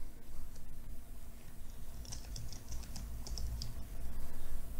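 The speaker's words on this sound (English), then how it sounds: "Type in custom event." Keys on a computer keyboard are tapped in a quick little run of clicks midway through, fairly faint over a low steady background hum.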